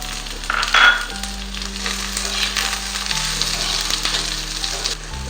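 Onion added to hot oil in a pan, with a sharp burst of sizzling that settles into a steady loud fry, along with a low background hum.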